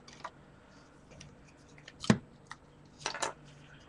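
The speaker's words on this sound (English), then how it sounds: "Grab a long pair of scissors" A few crisp scissor snips, sharp and close, spaced apart with quiet pauses between them.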